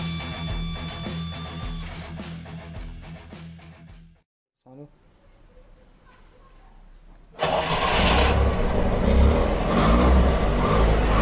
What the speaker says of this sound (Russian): Работа, движок.